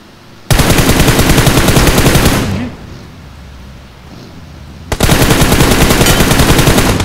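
Loud, close bursts of automatic machine-gun fire from the PUBG Mobile video game, a sustained rapid volley, a pause of a couple of seconds, then another long burst.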